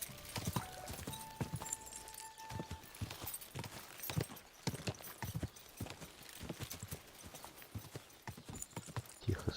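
Repeated horse hoofbeats clip-clopping in an uneven rhythm in the video game Kingdom Come: Deliverance II, fairly quiet, with a brief musical tone early on and no talking.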